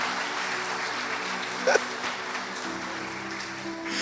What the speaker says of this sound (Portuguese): Aplaude bem forte esse Senhor.